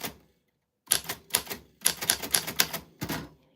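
Typewriter keys strike in quick bursts, with the crisp clacks coming close and loud, while a bright bell ding rings out between the runs of typing.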